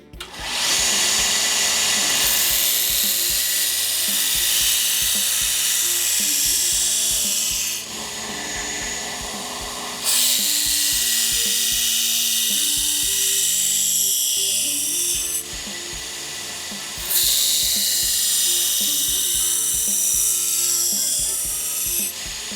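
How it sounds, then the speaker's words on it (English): A belt grinder runs an aggressive belt against soft knife steel, producing a loud, continuous rasping grind that swells and eases in long passes with brief lighter gaps between them. "I'm just going to slowly start to feather everything in using an aggressive belt"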